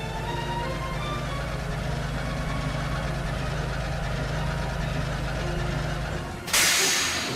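A diesel engine pulling in on a Sodor railway, a steady low idling rumble with a hissing, steamy wash that ends in a sudden burst of loud hiss near the close.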